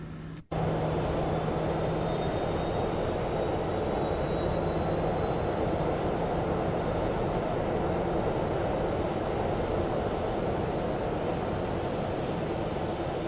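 Steady, loud engine roar heard from inside the cabin of a Boeing 737-900 airliner on a Newark to St. Maarten flight during takeoff, with a faint high whine running over the broad, constant rumble throughout.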